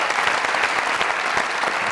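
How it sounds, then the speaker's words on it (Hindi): An audience claps throughout at a comedy show, a dense, even burst of applause from a sizeable crowd that carries on steadily from start to finish. "जरा जरा तालियां दो।"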